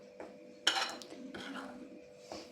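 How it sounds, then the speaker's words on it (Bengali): A spoon clinks against a bowl, then scrapes steadily as gram flour is mixed with sugar and salt for dhokla batter. The sounds are close and alone, with a few lighter taps. "ভালো করে চিনি আর লবণ দিয়ে ভালো করে বেসনটাকে"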